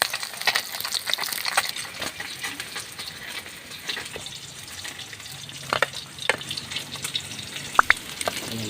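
Milkfish (bangus) frying in oil in a pan, giving a steady soft sizzle with scattered pops and crackles and a few sharp clanks of utensils, close up and with no talk.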